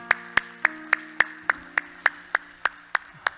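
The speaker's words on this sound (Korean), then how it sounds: "우리 하나님께 영광의 박수합시다." A church congregation claps in unison, about a dozen sharp, evenly spaced claps in a brisk steady beat over a faint sustained tone.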